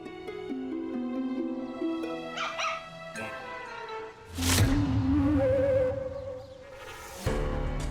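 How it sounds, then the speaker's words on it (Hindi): A dog indoors in a house barks, yips and whimpers in short, fairly close bursts over background music, with one sharp louder outburst partway through. "पर चौहान हाउस में कुत्ता?"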